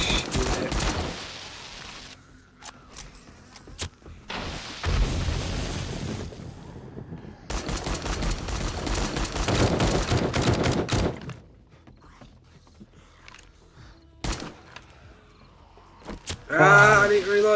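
Gunfire erupts during a max-difficulty blood moon night in the video game 7 Days to Die, coming in loud bursts of rapid shots separated by quieter gaps.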